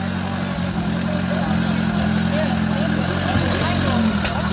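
A BMW motorcycle engine at a vintage rally start in Noordwolde, pulling away as a steady, loud, low rumble close by, continuous throughout with faint crowd and background sound.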